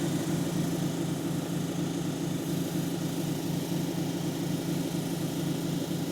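A lapidary cabbing wheel runs while grinding a petrified wood cabochon, making a steady, even motor hum with a low drone that holds unchanged throughout.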